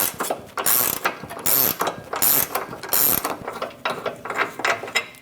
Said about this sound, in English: Using 2 21mm wrenches,